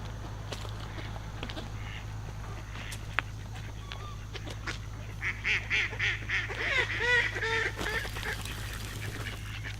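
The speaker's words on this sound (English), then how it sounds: "it looks like the ducks have taken over again" Ducks honk and quack in a loose, overlapping cluster, with calls building into a busier burst partway through over a steady low hum; the birds sound fairly close.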